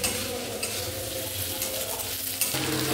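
Meat frying in a pan before going into a pressure cooker, a continuous loud sizzle with the clatter and scrape of a stirring utensil against the pan.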